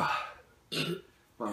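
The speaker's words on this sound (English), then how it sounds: "I burped and that came back up." A short, rough burp right after eating a hot habanero pepper in a pepper challenge. It comes as one brief guttural burst, close and clear, between stretches of other vocal sounds.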